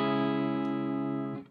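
A single guitar chord plays dry with no effects in Logic Pro, a sustained harmonic tone that rings steadily and cuts off abruptly after about a second and a half.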